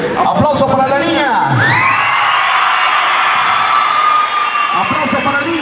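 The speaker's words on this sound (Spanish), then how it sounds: "Aplauso para la niña." A rodeo crowd in Mesquite cheers and applauds for a young girl, a sustained roar of whoops and shouts from a large audience, with voices rising over the din.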